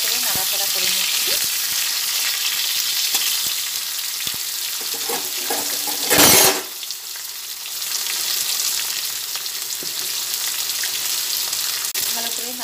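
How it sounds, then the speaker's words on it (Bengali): Pumpkin pieces fry in hot oil, a steady, close sizzle with stirring scrapes and a brief louder hiss midway, no voices over it. "যে কুমড়োগুলো ধুয়ে রেখেছিলাম সেই কুমড়োগুলো তেলের মধ্যে দিয়ে দিচ্ছি।"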